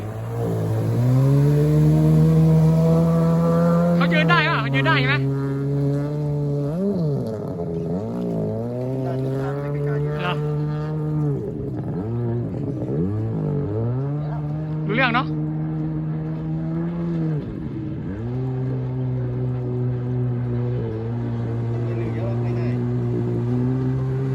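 A stand-up 750 jet ski on a pond revs hard again and again, its engine whining up and down in pitch over and over. Voices talk over the loud, continuous roar.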